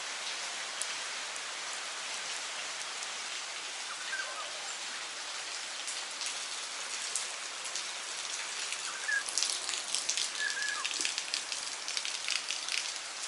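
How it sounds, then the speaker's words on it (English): Rain falls steadily outside a visitor center at a nature reserve in Singapore, a soft continuous patter of drops that grows slightly denser and closer toward the end, with no voices. "It's raining outside, so I just happened to be at the visitor center."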